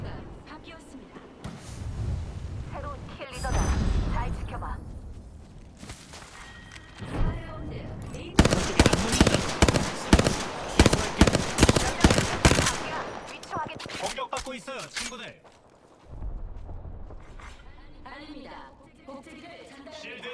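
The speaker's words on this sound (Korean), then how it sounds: "적의 사격 개시." Enemy gunfire in Apex Legends, with rapid automatic bursts that rattle in a dense volley through the middle, framed by heavier single shots and game sounds, mixed with voice lines and talk.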